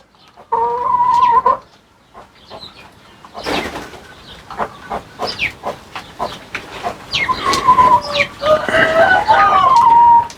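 Chickens cluck and squawk close by in a coop, with scattered wing flaps and scuffling between the calls.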